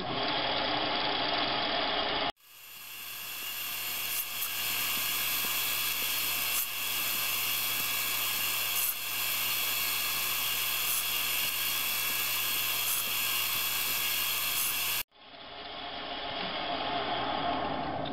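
A lathe turns a chamfer on an Adjust-Tru 6-jaw chuck backplate, giving a steady whining motor hum with a low tone that runs throughout, close by and without talk.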